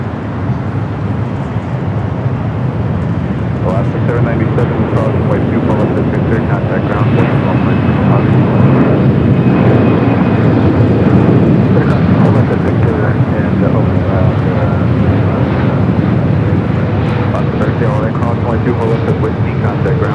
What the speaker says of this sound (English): China Eastern, the flight coming in from Shanghai,